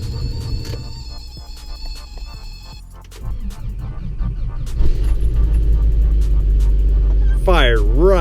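A 1987 4WD Toyota pickup engine cranks and catches midway, then settles into a loud, steady low idle rumble, with a person talking over the earlier part.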